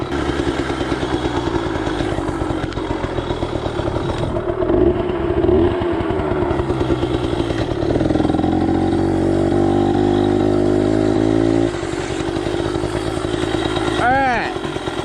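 A Yamaha PW80 two-stroke dirt bike fitted with an FMF exhaust and Boyesen reeds runs steadily at close range, with a rising rev in the middle and a quick blip near the end, while someone talks over it.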